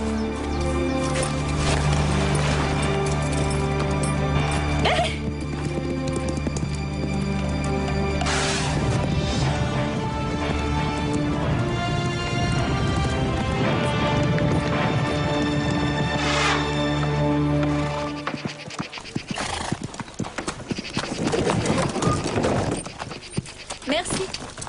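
Horse hooves clip-clop in a steady rhythm on a path in a 1997 Robin Hood adventure series, heard over long stretches of dialogue and a music score, with a louder, busier passage near the end.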